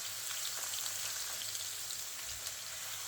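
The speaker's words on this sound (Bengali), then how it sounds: "এবার সবগুলো মশলা অনেকক্ষণ কষিয়ে নিতে হবে।" Onion, ginger, garlic and cumin paste frying in oil with bay leaf gives a steady, dense crackling sizzle that continues quietly without a break, like light rain.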